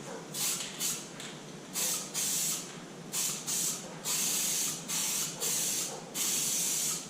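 A spray gun applies primer surfacer to a Honda CBR250R MC19 fuel tank in about nine short, close hissing bursts separated by brief pauses.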